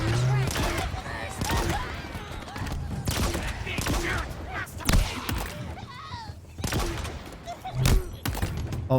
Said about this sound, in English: Actually, let me use my grenade launcher.